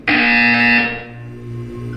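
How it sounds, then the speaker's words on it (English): A harsh, loud electronic buzzer from the Portal 2 video game sounds one sustained blast of about a second, then fades into a quieter lingering drone. "You will hear a buzzer."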